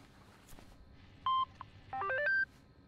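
Telephone keypad tones in the cyberpunk video game VirtuaVerse: one short tone, then a quick run of several rapid dialing beeps in a row, clear and moderately loud over a faint hum, with no voices.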